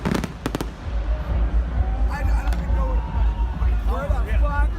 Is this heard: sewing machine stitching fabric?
no